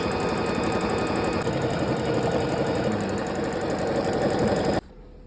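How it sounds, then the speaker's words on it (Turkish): A Pfaff Smarter sewing machine stitches a double stitch in a loud, fast, steady mechanical whir. It runs close and continuous for several seconds, then stops abruptly. "S1'deyken makinem çift dikiş yapıyor. Yani double dikiş."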